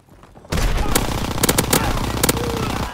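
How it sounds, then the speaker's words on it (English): Suppressing gunfire in the World War II shooter Call of Duty WW2: a loud, dense roar of machine gun and rifle fire bursts in after a brief quiet start, with sharp cracks layered over the sustained barrage. "Give suppressing fire!"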